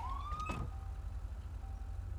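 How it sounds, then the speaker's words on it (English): Police car siren in GTA V with the LSPDFR mod, a short rising wail that cuts off abruptly after half a second, leaving a faint lingering tone over low engine rumble. "Go ahead and kill our siren here."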